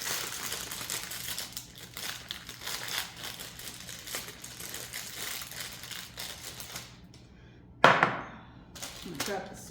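Second pie crust for a cherry apple pie is unrolled with soft, close crinkling and rustling of paper or plastic, followed by a sharp clatter and another brief rustle near the end.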